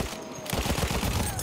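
Rapid gunfire in the Battlefield 1 video game, a dense burst of repeated shots from a Lewis Gun in a jungle team deathmatch, loud and continuous.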